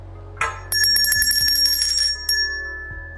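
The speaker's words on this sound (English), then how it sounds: "listen to the sound of the bell" A small bell rings close by, a quick run of bright, sharp dings that ring on and fade over a few seconds.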